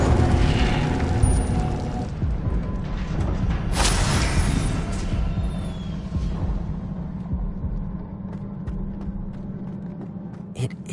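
A fire spell blast in Hogwarts Legacy erupts as a loud roaring whoosh with a deep rumbling body, a bright burst flaring midway, then a lingering low hum that slowly settles.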